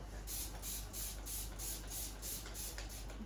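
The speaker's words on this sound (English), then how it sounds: "we'll give her some of the pre-wash spray" Dog grooming pre-wash spray sprayed on a dog: rapid bursts of hissing spray repeat in a steady rhythm, about nine quick pumps close by, with no talking.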